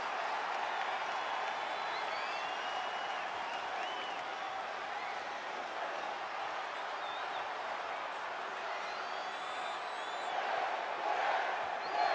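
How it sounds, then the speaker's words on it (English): A large arena crowd at a wrestling tag team match cheers continuously in a dense, distant roar, with scattered whoops and clapping rising slightly toward the end. "it sounds to me like the crowd is more than ready for this one"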